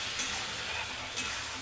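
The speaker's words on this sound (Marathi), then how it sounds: "मसाला टाकून झाल्यावर चांगलं परतून घ्यायचं" Ground masala paste being stirred and sautéed in hot oil for methi bhaji, a soft steady sizzle with two brief scraping stir sounds from a spoon against the pan.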